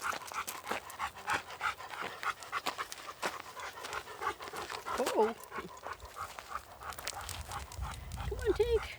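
Two dogs pant steadily outdoors on a summer walk, close and fairly quiet, with a few soft whimpers; people talk intermittently over the panting.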